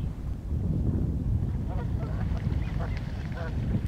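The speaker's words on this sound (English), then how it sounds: "Canada geese, American widgeons, a couple of killdeers, and tundra swans." Canada geese, American widgeons and tundra swans calling on thawing water in southern Alberta, with a series of short honks and quacks over a steady low rumble of wind noise.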